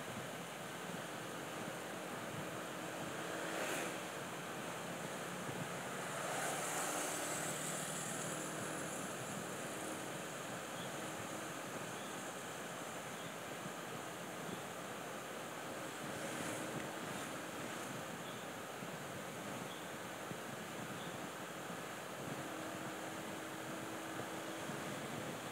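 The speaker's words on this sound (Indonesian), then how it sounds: "orang pertama setelah tukang tarik otomatis masih merasakan hempasan angin yang sangat kencang dari arah depan" Strong wind roars steadily into the microphone throughout as a group of road cyclists rides at about 55 km/h into a headwind, a dense continuous buffeting with slight surges.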